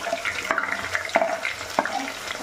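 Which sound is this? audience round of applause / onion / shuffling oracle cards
onion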